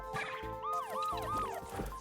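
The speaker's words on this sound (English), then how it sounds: "That little siren you hear" Warbling danger siren from the Dr. Mario video game, rising and falling tones repeating in quick cycles alongside the game's background music.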